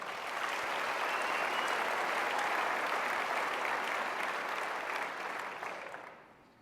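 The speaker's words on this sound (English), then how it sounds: "Let's give them a big round of applause" A conference audience in a convention center breaks into sustained applause, a dense even wash of many hands clapping that holds steady before fading out near the end.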